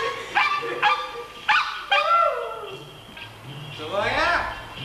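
A pet dog barks and yips about four times in sharp, close bursts in a home. A few whimpering, whiny cries follow, with a faint voice in the background.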